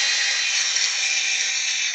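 A power drill spins a nylon cleaning brush inside a rifle bolt, giving a steady, loud, even high whir that holds without a break for the whole stretch.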